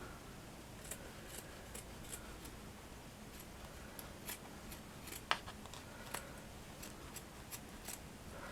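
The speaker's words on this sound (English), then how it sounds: "so now what I'm going to do is just to trim around here." Scissors snip around a canvas craft flower, a string of faint, sharp cuts at an irregular pace, each click standing out from a quiet background.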